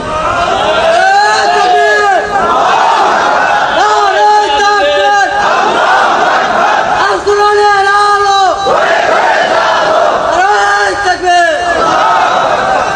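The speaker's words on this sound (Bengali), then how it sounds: "কি তাকবীর এবার দেওয়া যায় না?" A large crowd at a Bangladeshi religious gathering chants the takbir in four loud, rhythmic call-and-response surges, each a roaring unison shout of many voices, with brief gaps of murmur between them.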